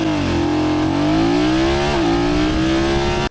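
A BMW GS Adventure motorcycle accelerates hard from 0 to 100 km/h, its engine loud and close, the pitch climbing steadily with a quick dip at a gear change before rising again, with no talking.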